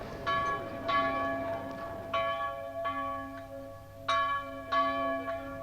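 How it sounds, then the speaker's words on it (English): The old parish church bell in South Queensferry tolls on a Sunday, ringing about seven clear, resonant strikes at uneven intervals, each ringing on and overlapping the next, with no voices. "the bell of the old parish church calling the faithful to attend."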